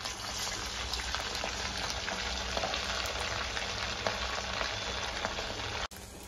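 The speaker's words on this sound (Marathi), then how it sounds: "आपण राहिलेले कटलेट तळून घेऊया।" Cutlets fry in a pan of hot oil with a steady, close sizzle and crackle that runs unbroken, then cuts off sharply near the end.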